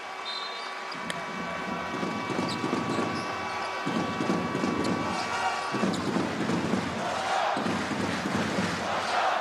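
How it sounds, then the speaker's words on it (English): A basketball crowd in Amman roars during a Jordan game, loud waves of cheering rising and falling with a few sharp bangs and swells, heard from within the arena. "the crowd are certainly starting to become a factor in this game"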